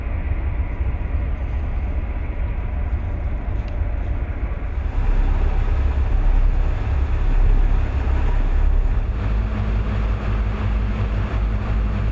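A motorboat cruises along the coast, heading north toward Lowestoft, with a steady low engine drone and heavy wind rushing across the microphone. There is no speech.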